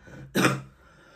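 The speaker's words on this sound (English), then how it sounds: "Oh, I have a cough." A single short, harsh cough or throat-clearing bursts out close by, alone and without any talk around it.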